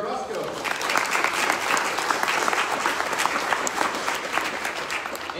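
Sustained audience applause for a piano player at a church service, a steady wash of many hands clapping at close range with a murmur of crowd voices underneath.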